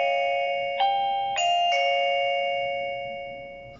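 Wireless 2K video doorbell chime sounding after its button is pressed: three bright electronic tones step in quickly and then ring out together, fading slowly, clear and close.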